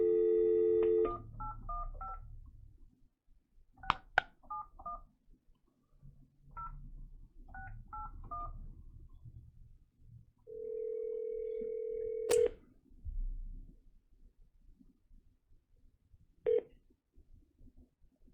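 Telephone keypad dialing for a county board meeting's public comment call, with bursts of DTMF tones, a steady ringback tone and clicks over quiet background noise, heard alone without talk.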